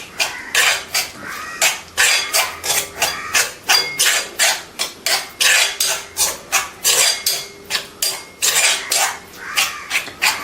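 Ingredients for a homemade herbal hair dye, including ground leaves, are mixed vigorously in a vessel, making steady, rhythmic clanking and scraping strokes repeated roughly twice a second, close and fairly loud, with no voices.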